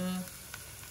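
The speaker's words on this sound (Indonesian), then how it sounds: "Ini digoreng sampai kecoklatan" Peanuts frying in a pan until browned give a soft, steady sizzle that stays fairly faint and close, with a brief low hum at the start.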